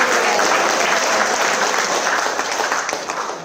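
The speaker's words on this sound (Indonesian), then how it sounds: "Tepuk tangan buat Tuhan." A church gathering's audience breaks into dense, sustained applause, a thick wash of many hands clapping at once that fades slightly near the end.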